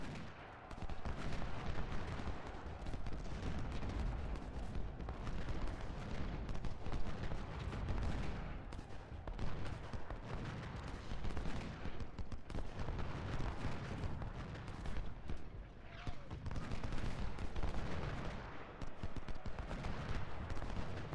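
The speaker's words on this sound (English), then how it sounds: "They're shooting at the skirmishers, which I'm more than happy about." Battle gunfire in the Civil War strategy game Ultimate General, with continuous overlapping musket volleys and rumbling cannon-like booms forming a dense, steady roar of combat that lasts throughout, without talk.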